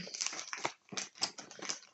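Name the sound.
small dog yapping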